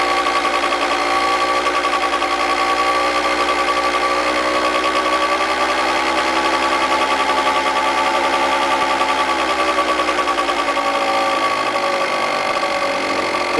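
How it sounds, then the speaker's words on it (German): A small 2014 scooter engine running on an oxyhydrogen (hydrogen) additive runs steadily close by, a buzzing, high-pitched two-stroke drone that holds even throughout, with a slight shift in pitch toward the end as the throttle eases. "Also ich drehe noch einmal kurz das Gas auf"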